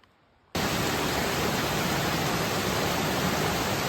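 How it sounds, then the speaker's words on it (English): Commerce Creek Falls on the Appalachian Trail in Virginia roars up close after a brief quiet moment, a loud, steady, broadband rush of falling water that never lets up. "This is Commerce Creek Falls"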